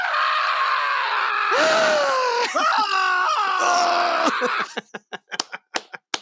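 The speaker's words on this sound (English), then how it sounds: "You're the first screamer on the show." A person lets out a long, loud scream on a talk show, the wavering cry rising and falling over about four seconds, followed by a series of sharp, quick slaps or claps.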